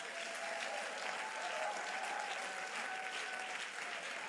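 A church congregation claps together in sustained, even applause at a Sunday service, a dense wash of hands heard at moderate distance without letup.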